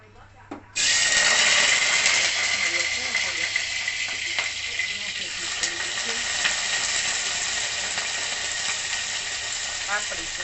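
Tempering spices hit hot oil with a sudden loud sizzle after a quiet moment, then keep crackling steadily and close up, gradually easing a little, while a voice speaks occasionally in a home kitchen.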